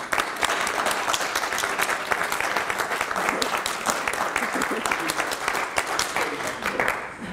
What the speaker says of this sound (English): I'd like you to give him a round of applause now.